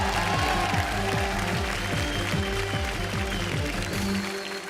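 Studio audience applause at a Hindi comedy show, a dense wash of clapping laid over loud rhythmic stage music that runs throughout, steady and close.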